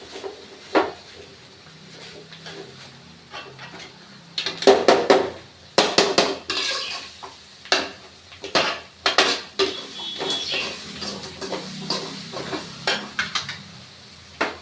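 Cabbage and onion sautéing in a pan, with sharp metallic clanks and scrapes of a spoon against the pan in irregular bursts over a faint background sizzle.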